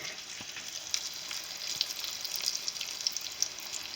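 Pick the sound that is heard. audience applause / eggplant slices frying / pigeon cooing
eggplant slices frying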